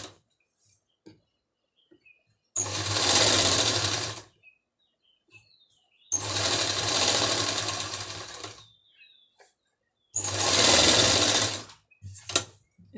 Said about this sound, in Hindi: अब इसका भी मार्जिन हमने इस साइड को मोड़ के इसमें सिलाई लगा देनी है